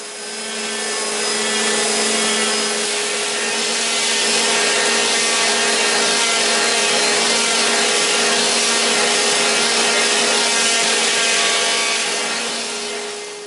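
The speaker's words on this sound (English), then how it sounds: "this downdraft sanding table. It's not very big, but it's just great for little pieces like this" A downdraft sanding table smoothing small wooden pieces gives a steady, loud abrasive rasp over a constant motor and fan drone, running unbroken throughout.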